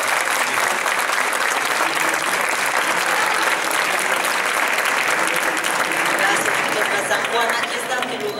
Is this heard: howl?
no